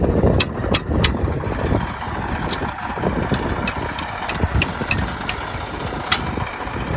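A tractor engine idles with a low, uneven chugging rumble, punctuated by several sharp metallic clicks and rattles.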